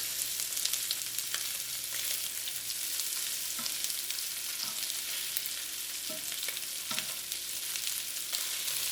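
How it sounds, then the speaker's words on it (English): Steak pieces frying and browning in a hot pan for black pepper steak, a steady close sizzle running continuously with a few faint clicks and no talking. "Try to brown up the steak on one side and then flip it over."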